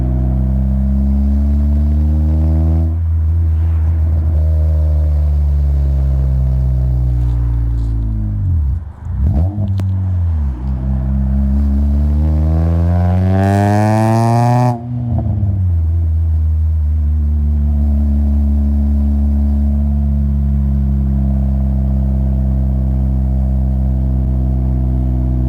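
A car with a K24 engine drives steadily, its engine droning loud and close, pitch climbing and falling through gear changes with one brief dip mid-drive before settling into a smooth cruise.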